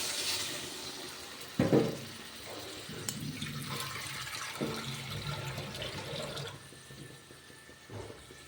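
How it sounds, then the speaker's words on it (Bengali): Water goes into a hot curry pan for gravy, making a quiet splash and bubbling hiss. A louder clatter comes early on, then scattered small knocks and a soft, continuous rush. "এই ঝোলের জন্য আমি জল দিয়ে দেবো।"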